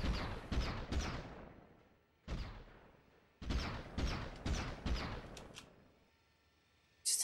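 Gunfire in the Beverly Hills Cop video game: several sharp, loud shots in irregular bursts, each trailing off, with gaps of near silence between and a final abrupt blast at the end.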